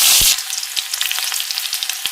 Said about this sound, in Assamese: তেল গৰম হৈ গ'ল ইয়াতে এতিয়া দি দিলোঁ পিঁয়াজ